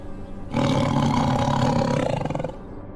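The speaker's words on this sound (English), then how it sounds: "I had heard tell that there was a tiger in this movie." A tiger in a movie scene lets out a loud, sustained roar that starts abruptly, holds steady for about two seconds, then cuts off, with no talking over it.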